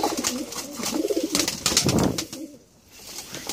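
Runaway pigeons on a rooftop cooing in soft repeated throaty rolls, close and fairly quiet, alone with no talk.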